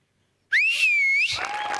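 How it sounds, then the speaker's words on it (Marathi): A single sharp human whistle rises and then holds a bright tone, coming from the audience at a Marathi television comedy show. "ही शिट्टी होती आपल्या टीमसाठी"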